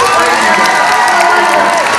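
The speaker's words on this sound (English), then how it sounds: "Can I get a huge round of applause?" Convention audience at a video game panel at MCM London Comic Con, a loud continuous roar of crowd cheering and clapping blended into one dense wall of noise.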